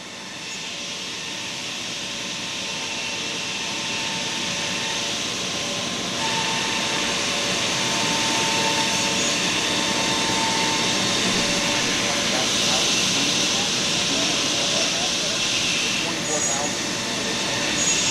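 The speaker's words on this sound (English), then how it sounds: "Currently it's just doing our outline trace cut on all the parts." A Holz-Her Dynestic CNC machine runs its spindle at 18,000 RPM, cutting outlines around parts with a loud steady whine and a hum that rises and shifts slightly as it moves, while someone talks over it.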